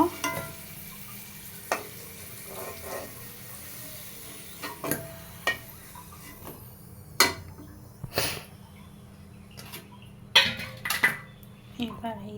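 A utensil scrapes and clinks against a pan as fried potatoes are gathered and lifted out of hot oil in a home kitchen. Several sharp, close metallic knocks sound over a soft, steady background hum.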